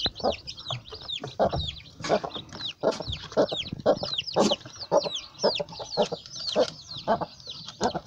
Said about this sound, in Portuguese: Vou lá no quintal agora dar milho para as galinhas para vocês verem